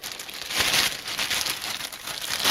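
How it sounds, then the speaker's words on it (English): A Dyson DC44 vacuum accessory is unwrapped from its plastic packaging, making close, bright crinkling and rustling in irregular bursts throughout, with no speech. "this will easy to unwrap this one straight away."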